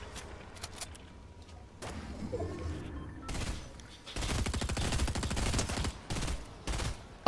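Twin mag SMGs rattle out fast bursts of automatic gunfire in Fortnite, with scattered single shots early, then dense sustained volleys and a few short bursts near the end, loud and close.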